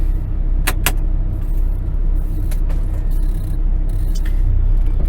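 A little Kenworth truck's engine idles in -10 degree Wyoming winter cold, a steady low rumble filling the whole stretch, with a few brief sharp clicks or metallic rattles over it.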